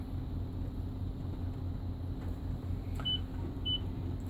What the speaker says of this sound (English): If I don't load one, I'll get a little beep